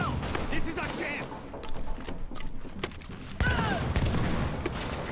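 Gunfire in the video game Tom Clancy's The Division, with rapid bursts of shots and mechanical clatter under busy game noise and talk.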